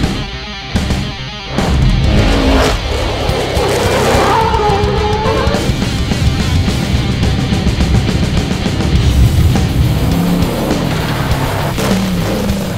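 An off-road trophy truck running on 112-octane race fuel fires up, then its engine revs loudly and close for several seconds, with a rising and falling roar and rough mechanical texture.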